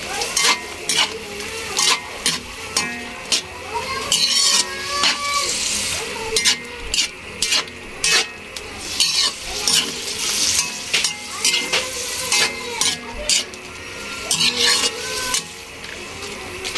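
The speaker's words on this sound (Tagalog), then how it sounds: "ilagay na rin natin yung pamintang buo at saka laurel. Ayan. Tapos haluin." Pork intestines frying with whole black peppercorns and bay leaves, stirred steadily in a pan: a continuous hiss of sizzling oil, broken again and again by scraping strokes of the spoon, close and fairly loud, with no talking.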